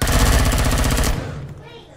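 A rapid burst of automatic gunfire from a gun in the survival game Empyrion, loud and close, rattling steadily for about a second before cutting off abruptly and fading into quiet.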